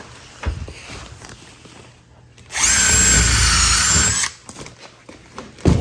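A power drill drives a screw while wiring an outdoor cathouse, a loud steady whine lasting under two seconds, with quieter shuffling and handling noises before and after.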